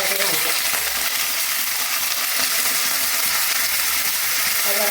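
Potato pieces frying in hot oil for aloo matar upma, a loud continuous sizzle and crackle close to the pan, with no talk over it.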